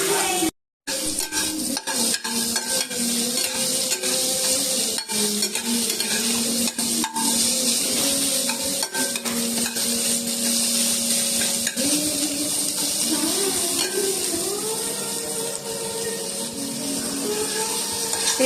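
Chopped onions fry in just a little oil in a pan, giving a steady, close sizzle broken by frequent scraping and stirring clatters throughout.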